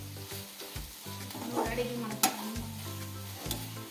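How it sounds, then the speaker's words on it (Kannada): Tomatoes fry and get stirred for a desi-style chicken curry: close sizzling with scraping spoon strokes and a sharp clank, over a steady low hum, without speech. "ಟೊಮಾಟೊದು ಹಸಿ ಹಸಿ ಈ ಥರ ಚೆನ್ನಾಗಿ ಫ್ರೈ ಮಾಡ್ಕೋಬೇಕು"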